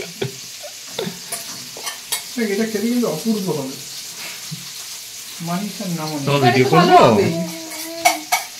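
Fish frying in hot oil in a home kitchen, a steady sizzle with stirring and occasional utensil clinks, running under close conversational voices throughout.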